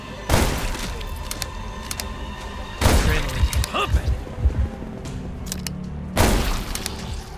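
Gunfire in The Walking Dead Destinies video game, with three loud shot bursts spaced a few seconds apart amid clattering game effects and thuds.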